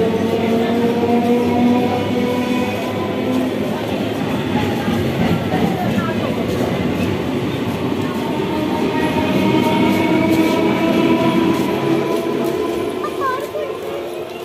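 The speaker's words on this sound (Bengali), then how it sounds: "এটা গেদে লোকাল ঢুকলো।" A Gede local commuter train at a railway station platform: a loud, continuous rumble with rolling wheel noise and faint clatter, close by, holding steady throughout as someone talks under it.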